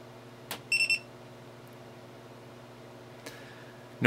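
A GoPro HERO2 camera beeps during a firmware update: a short cluster of quick, thin electronic tones near the start, with a second brief chirp later over a steady low hum, no voices.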